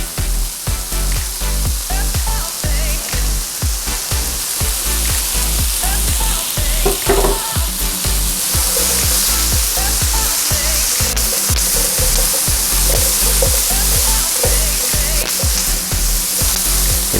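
Oiled broccoli florets and red potatoes with garlic parmesan seasoning being stirred in a hot pan, giving a steady loud sizzle with repeated scraping and tumbling stir strokes throughout.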